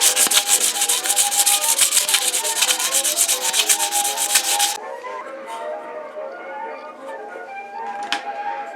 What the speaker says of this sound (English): Use a piece of sandpaper to clean off any rust.